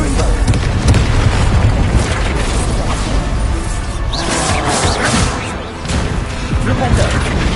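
Spell blasts erupt in the Hogwarts Legacy video game, with the Confringo fire spell exploding amid booming impacts and whooshes under a constant loud, dense battle mix, while a voice calls out over the top.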